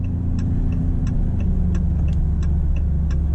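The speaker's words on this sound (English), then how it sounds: "we'll go on the highway here, do a little bit of acceleration onto the highway" A 2025 Maserati GranCabrio Trofeo accelerates onto a highway, its engine a steady, loud low rumble heard from inside the car, with faint regular ticking above it.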